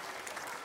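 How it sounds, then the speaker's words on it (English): A brief, soft burst of clapping from the congregation at a Sunday church service, quiet and steady throughout. "Give them a round of applause"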